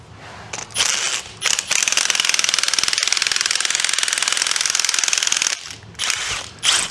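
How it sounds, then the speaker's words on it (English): A pneumatic impact gun runs in a sustained, loud rattling burst of about four seconds, bracketed by shorter bursts, while work goes on stripping a Toyota Previa whose motor has been removed; the gun can be switched between forward and reverse. "what I find crazy is you can put the gun in forward and reverse"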